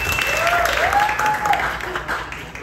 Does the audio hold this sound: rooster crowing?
no